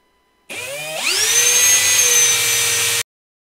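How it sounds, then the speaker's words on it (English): A power tool sanding a tumbler whirs to life, its pitch climbing quickly before settling into a steady, loud high-speed drone, then stopping abruptly. "hold it down as I am pushing the power tool."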